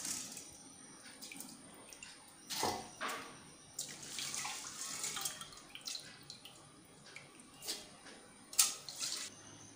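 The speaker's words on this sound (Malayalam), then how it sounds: "ഇനി ഇത് നമുക്ക് ഒരു അരിപ്പയിലേക്ക് ഇട്ട് കൊടുക്കാം വെള്ളം വാരാൻ." Soaked rice, being drained for unniyappam batter, sheds water through a strainer in soft, close trickles and splashes, quiet and uneven with a few louder spurts.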